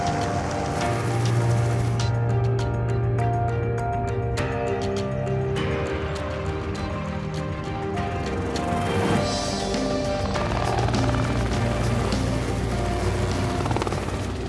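A helicopter hovers and maneuvers nearby while herding kudu toward a capture boma, its loud rotor chop and turbine whine steady throughout, alone without speech.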